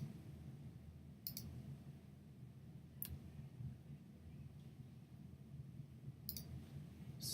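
Three quiet, sharp clicks of a computer mouse, spaced a second or more apart, sit over a low background hum in a quiet room.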